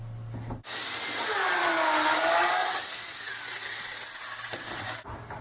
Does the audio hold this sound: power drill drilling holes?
yes